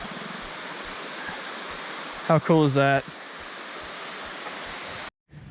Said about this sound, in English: just rode our mountain bikes to like a waterfall